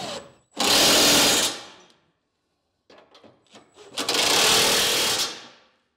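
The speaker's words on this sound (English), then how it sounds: "now we can start tightening these down using a 15/16 socket. I'm going to use an impact here" An impact wrench with a 15/16 socket tightens the bolts of a Curt trailer hitch receiver on a 2023 Ford F-150, in two loud, long rattling bursts separated by a brief pause and some faint clatter.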